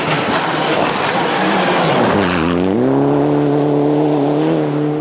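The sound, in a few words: rally car driving through tree-lined stage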